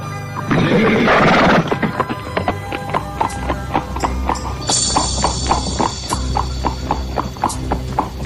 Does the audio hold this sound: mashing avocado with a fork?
no